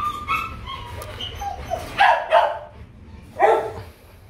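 A Vietnamese Coc dog growls and gives several short barks and yips in bursts, close and fairly loud against a quiet background.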